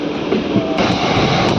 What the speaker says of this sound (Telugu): మన ట్రైన్ క్రూజింగ్ స్పీడ్ చూసుకోవచ్చు, మామూలుగా లేదు.